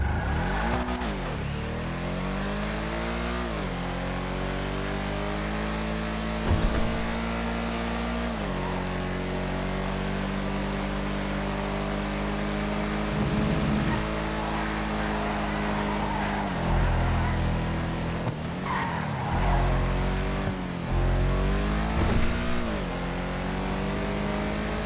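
Engine of the Cypher, a two-door sports car from the Tuners update, in a video game test drive: a steady, loud drone with repeated rises and dips in pitch as it revs and shifts throughout.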